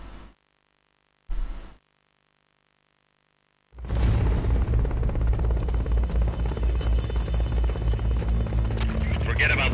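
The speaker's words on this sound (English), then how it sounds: "Forget about the chopper for now." A video game helicopter roars in abruptly after two brief bursts and near silence, then holds as a loud, steady throbbing drone with a rumbling low end.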